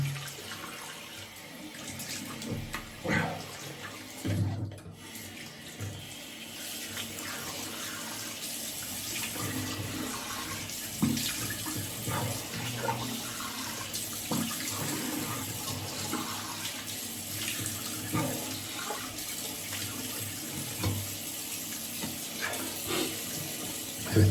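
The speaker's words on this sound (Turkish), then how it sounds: "Şimdi yüzümü yıkıyorum." Running tap water splashing into a sink while someone washes their face after a shave, a soft continuous flow broken by irregular splashes and rubbing, fairly quiet and close, with no talking.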